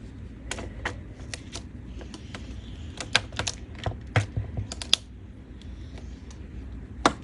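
A scoring tool pressed hard along a line on a journal cover, a series of sharp dry clicks and scrapes in irregular bursts, close and fairly quiet.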